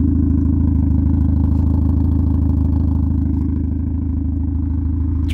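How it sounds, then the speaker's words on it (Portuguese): Car engine idling with a sports exhaust, recorded from outside: a steady, loud, low rumbling burble with a constant even pulse, holding the same level throughout with no revving. "ficou uma lenta bem gostosa de ouvir"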